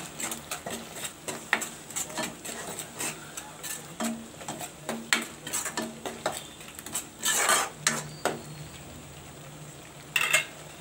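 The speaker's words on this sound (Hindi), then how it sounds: "अब हम इसमें डालेंगे नमक अपने स्वाद के अनुसार और इसे भी मिक्स कर लेंगे" Salt being stirred into a chickpea curry in a pan, with repeated metallic spoon scrapes and clinks against the pan in an irregular rhythm, close and moderately loud, over a soft bubbling background.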